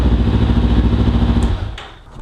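Kawasaki Ninja 300 engine fitted with a Yoshimura R-77 stainless full exhaust, revving steadily and loud up close for about a second and a half, then dropping back to a quieter idle.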